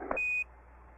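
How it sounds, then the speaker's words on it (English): Apollo 11 spacecraft master alarm for high O2 flow, heard over the radio amplifier as a single short, sharp electronic tone lasting about a quarter second, then quiet static. "Can you hear our master alarm in the background? That's O2 flow high coming through this amplifier."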